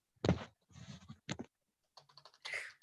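Close-up keyboard typing in short bursts of clicks separated by brief pauses, quiet room, no voices.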